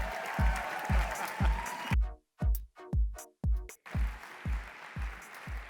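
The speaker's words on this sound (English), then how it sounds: "Give him a big round of applause," Audience applause at an upcycling-themed stage event, heard as rhythmic clapping with sharp individual claps standing out, briefly breaking into distinct separate claps before a denser crowd clapping resumes.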